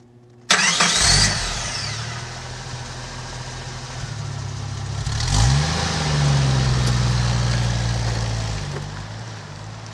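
A car engine cranks and starts abruptly, then idles and revs as the car drives off, loud and close, with a steady engine drone to the end.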